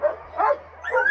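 Sled dogs in Alaska, harnessed to a wheeled cart for snowhook dog sledding, give a quick burst of eager barks and yips, close and fairly loud, with a steady low hum underneath.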